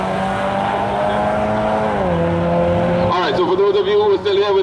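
A black Nissan GT-R R35 drag racing, a loud sustained engine drone that drops in pitch then climbs again as it revs, with an announcer talking over it.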